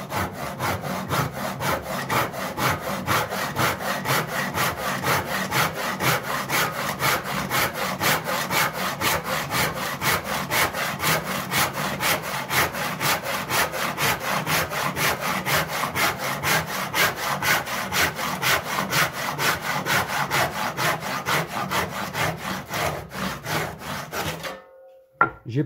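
A handsaw cuts through wood along a pencil line in steady, rapid back-and-forth strokes, close and loud, continuing without pause for about twenty-four seconds before stopping abruptly.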